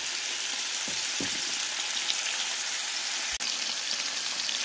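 Garlic cloves and ginger slices fry in a pan with marinated eel, giving a steady, dense close-up sizzle throughout, with a couple of soft stirring knocks and one sharp tap near the end.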